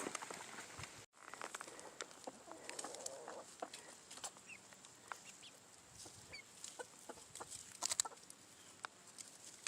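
Chickens clucking steadily at an off-grid homestead, a scatter of short soft clucks and calls over a quiet outdoor background.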